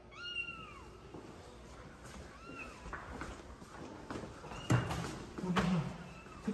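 A kitten mews several times in thin, rising-falling cries, with soft rustling and a few thumps in the background.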